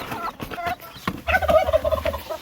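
A turkey hen gobbles in a rapid, rattling burst, close by, with scattered faint background noises before it.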